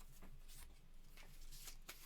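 Cards of a Deep Space D-6 board game deck being shuffled by hand at close range, a soft papery riffle in several short bursts, quiet and alone with no talk.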